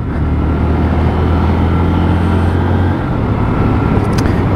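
A Lexmoto ISCA motorcycle pulls away on a test ride, its engine a steady loud drone with constant low hum and wind rush close by throughout, no voices.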